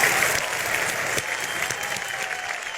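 Studio audience on the reality show Bigg Boss applauds, a dense wash of clapping from a crowd that fades slightly over a few seconds, heard without talking.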